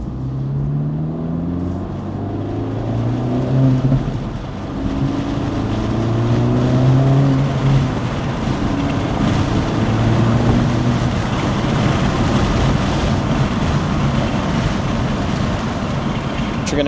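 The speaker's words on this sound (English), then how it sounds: "What you're gonna hear is a lot more wind noise for sure." Acura Integra Type S (DE5) cruising with the windows down and a stock OEM air filter, a steady loud rush of wind over a low droning engine and road roar that holds throughout.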